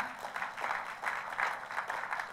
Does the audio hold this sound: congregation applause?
yes